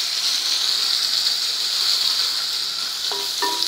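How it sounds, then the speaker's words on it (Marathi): Crushed chilli-garlic thecha with curry leaves frying in a hot pan gives a steady, dense sizzle that stays loud and even throughout, with a couple of faint metallic taps near the end. "हा ठेचा आपल्याला 1/2 मिनिट परतायचा आहे"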